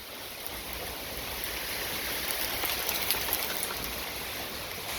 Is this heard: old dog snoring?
no